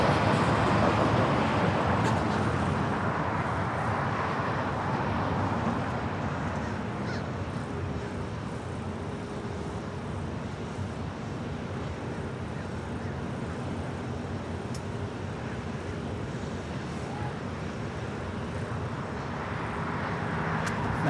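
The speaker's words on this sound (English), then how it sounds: "Next arrival is the Turkish Streamliner coming in from Istanbul" A Turkish Airlines jet from Istanbul arriving on runway 25 left at Los Angeles International Airport: a steady, broad roar of jet engine noise that swells and sustains throughout, with faint background sounds around it and no talk.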